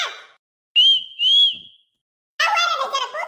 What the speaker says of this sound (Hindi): ठलाव चढ़ के सीटी मारत है